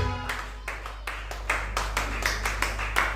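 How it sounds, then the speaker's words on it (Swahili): Hands clapping in a steady rhythm, about a dozen sharp claps at a moderate pace over a low hum. "Pigia Yesu Kristo makofi."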